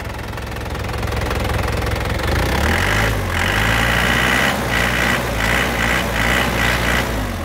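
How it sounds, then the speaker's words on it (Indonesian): A 2010 Isuzu Panther LM Smart Turbo diesel engine is revved up from idle, its loud, close rumble climbing in pitch, with a rattly diesel clatter and repeated throttle blips on top. "Nah untuk mesinnya seperti ini, suaranya kempel banget teman-teman. Kita coba ya, gas ya."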